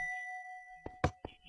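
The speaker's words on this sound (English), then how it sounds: "flutes, chimes" A Minecraft note block playing a flute or chime voice: a thin sustained pure tone fades out, followed by three quick bright struck notes in close succession, clean and fairly quiet.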